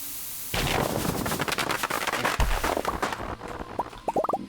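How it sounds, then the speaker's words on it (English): Repeated bomb blasts in the farming game Stardew Valley, a rapid burst of loud, crackling explosions going off one after another, followed near the end by a few short tonal chimes. "It's going to take a decent number of explosions to actually clear stuff out."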